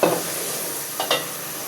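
Marinated meat fries in hot oil with a steady, loud sizzle, and a few brief stirring scrapes break through near the start and again toward the end.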